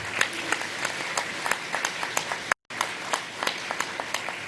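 Sparse applause from an audience at a peace symposium keynote, a scattering of distinct claps in an uneven rhythm with a brief dropout midway.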